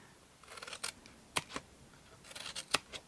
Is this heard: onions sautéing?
no